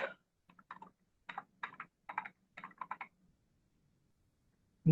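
Typing code on a computer keyboard in the Code::Blocks IDE, quick clusters of close key clicks in short bursts separated by brief pauses, quiet and alone, ending in silence.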